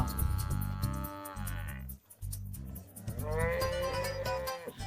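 A buffalo lows in two long, deep, drawn-out calls separated by a short pause, heard clearly but at a moderate distance.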